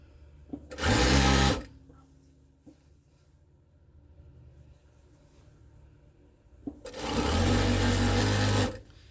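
A sewing machine runs in two loud bursts stitching quilt seams for a Christmas Trip Around the World quilt, the first about a second long and the second longer, with quiet handling noise between.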